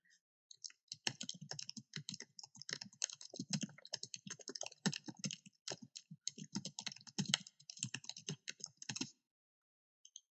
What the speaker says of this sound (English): by clicking and typing, I fill up the content